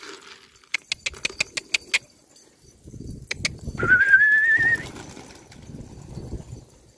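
Domestic pigeons being released and settling: a quick burst of wing claps and flapping up close, then a brief whistling call over scuffling movement, with no talk.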